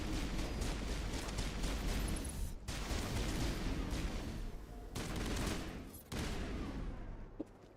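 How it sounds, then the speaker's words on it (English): Sustained gunfire in the Mass Effect video game: dense, rapid bursts of shots and blasts run almost continuously, with a few short pauses between volleys, loud and close. "What are you guys shooting at?"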